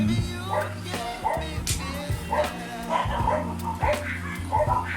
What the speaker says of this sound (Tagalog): ang ingay na aso